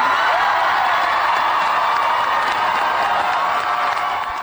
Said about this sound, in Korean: 박수가 끊이질 않습니다